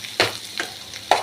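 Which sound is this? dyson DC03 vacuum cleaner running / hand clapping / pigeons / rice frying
rice frying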